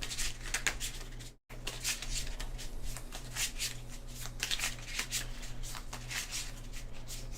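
A deck of cards for the board game Hoplomachus Victorum being shuffled, with continuous close papery riffling and rubbing that runs steadily apart from a brief dropout, no talking.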